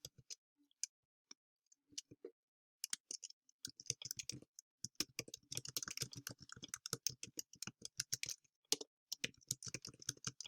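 Clicking and typing on a computer while writing Chinese in Google Docs, with sparse clicks at first that turn into a dense, quick rattle of keystrokes, close and crisp in a quiet room.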